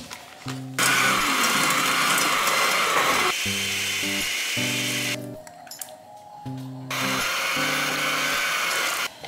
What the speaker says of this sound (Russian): Теперь нам нужно масло взбить вместе с, э, с сахаром